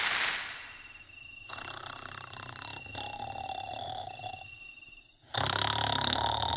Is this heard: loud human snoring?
yes